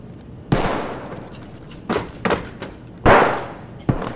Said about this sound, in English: Oh, that was a flashbang.